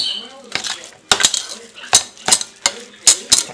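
A utensil stirs meatball mixture in a bowl, giving a run of sharp clinks and scrapes in irregular bursts, close and fairly loud.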